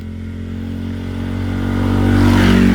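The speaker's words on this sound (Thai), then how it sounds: "โน่นมอเตอร์ไซค์ขี่รถมา" A motorcycle approaches along a track through a white pomelo orchard, its engine hum steady and growing louder over a few seconds as it draws closer, with no talking.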